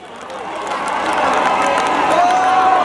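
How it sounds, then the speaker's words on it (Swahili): A crowd at a bursary issuance event in Bonchari Constituency applauds and cheers for an honourable guest, a steady broad wash of clapping and voices that builds slightly and holds for about three seconds. "Pigia mheshimiwa makofi."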